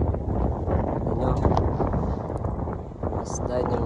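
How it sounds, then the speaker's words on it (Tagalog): Wind blowing beside a river, a steady broadband rumble buffeting the microphone throughout with faint, indistinct voices underneath. "Super saya pakinggan mga hangin"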